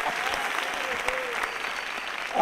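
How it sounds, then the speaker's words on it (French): An audience claps through a comedy show, a steady, fairly soft patter of many hands that carries on without a break. "Applaudissez encore un petit peu."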